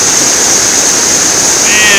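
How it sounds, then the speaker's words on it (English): River rapids on the River Walk at Phenix City, Alabama, roaring as a loud, steady rush of whitewater heard up close from a rock beside the flow. "And the water's so loud, I don't even know if you can hear me."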